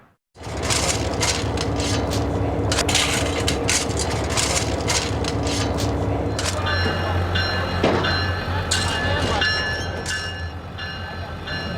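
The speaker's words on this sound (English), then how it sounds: "We have a train going down 20 to 25 miles an hour down these tracks." A train rolls down the tracks at roughly 20 to 25 miles an hour, a steady loud rumble and clatter filling the whole stretch, with a brief horn-like tone near the end.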